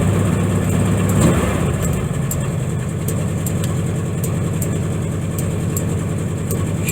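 A Volkswagen Beetle engine runs steadily after a cold start, a close, droning idle with light rhythmic ticking throughout.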